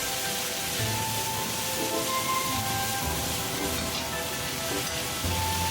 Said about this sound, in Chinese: 把水芹菜倒入锅中，继续用大火翻炒均匀。